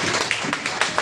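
At a youth training camp in a college hall, an audience claps briefly. The sound is a short burst of separate, fairly soft claps with a loose rhythm.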